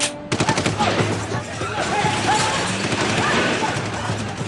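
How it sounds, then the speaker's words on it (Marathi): Indiscriminate gunfire from the 26/11 terror attack in Mumbai near Cafe Leopold opens with a sharp burst of rapid automatic shots, then continues as a loud, dense barrage of overlapping bangs and crashes. "अतिरेक्यांनी याच परिसरात अंधाधुंद गोळीबार करायला सुरुवात केली"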